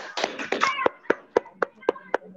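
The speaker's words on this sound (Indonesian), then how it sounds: "kita berikan tepuk tangan untuk dua fasilitator kita pada hari ini" Applause from a training-workshop audience for two facilitators: a dense burst of many hands clapping at once, thinning within a second into a few sharp, evenly spaced single claps that carry on alone.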